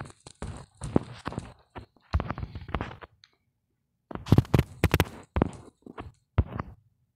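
Horse hooves clop in Minecraft in uneven bursts of hollow knocks, pausing briefly between clusters, close and fairly loud with no voices.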